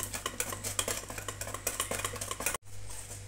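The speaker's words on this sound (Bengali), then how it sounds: "তেল দিয়ে আমি আরেকবার ভালো করে ফেটিয়ে নেব।" Dhokla batter with oil being whisked briskly in a bowl, a fast rhythmic run of clicking and scraping strokes up close over a low steady hum, ending abruptly.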